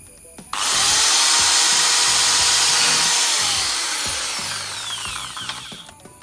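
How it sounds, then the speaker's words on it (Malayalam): An electric drill bores a hole in a coconut shell, a loud steady high-pitched whine that starts abruptly and holds for several seconds before slowly easing off. "ഡ്രിൽ മെഷീൻ കൊണ്ട് ആദ്യം ഒന്ന് ഹോൾ അടിക്കുകയാണ്."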